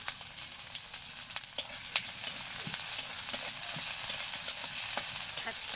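Chopped onions and chillies stirring and frying on low heat over a clay stove, a steady soft sizzle with scattered taps and scrapes of the stirring.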